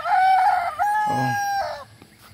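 A young rooster (stag) crowing once up close and loud, a long strained call that breaks into a rising second phrase and trails off, with faint farmyard background and no talk.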